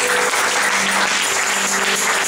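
A church congregation bursts into loud, sustained applause, dense clapping filling the hall evenly from start to finish with no speech over it.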